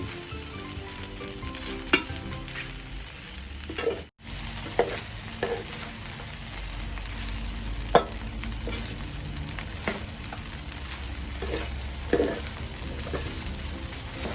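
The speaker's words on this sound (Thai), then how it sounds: "เราก็ผัดให้มัน แห้งนะครับ ให้ข้าวร่วนนะครับ" Egg fried rice with minced pork being stir-fried in a pan: a loud, steady sizzle punctuated by repeated spatula scrapes and knocks against the metal, close up with no talking.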